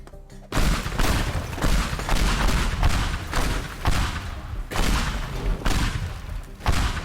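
Repeated heavy explosions from pipe bombs in the destructible voxel game Teardown, a dense series of loud booming blasts and rumbling debris that roll on nearly continuously with brief pauses between bursts.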